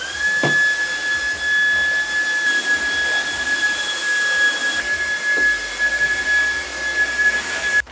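A vacuum cleaner runs steadily on a floor indoors, a constant loud whine with a sharp high tone holding throughout, with a few brief knocks partway through and no talking.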